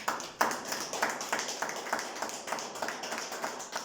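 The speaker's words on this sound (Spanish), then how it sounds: "Denle un aplauso al Señor." A church congregation clapping during a worship service, giving applause to the Lord: fairly quiet rhythmic claps at a steady, even beat for a few seconds, with no speech over it.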